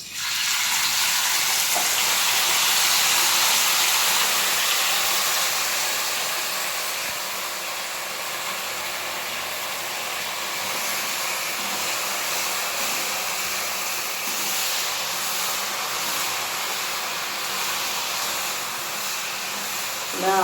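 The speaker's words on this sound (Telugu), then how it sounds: "గోంగూర ఆయిల్లో బాగా ఎగుతుంది" Gongura leaves frying in hot oil for a raw prawn curry, giving a loud, steady broadband sizzle that holds for the whole stretch, easing slightly after the first few seconds, with faint talk.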